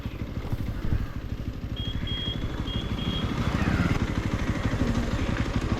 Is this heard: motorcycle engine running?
yes